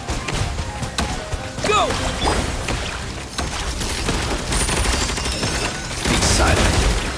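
Bombs exploding in Genshin Impact, a rapid jumble of thumping blasts and crashes over a dense battle soundscape, loud and close, with a brief shout heard in the mix.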